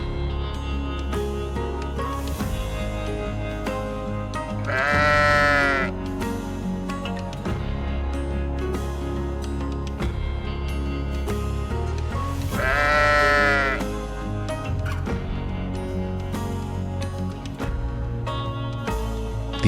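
Sheep on the Faroe Islands bleat twice, each a wavering, fairly loud call some eight seconds apart, heard over a steady music bed.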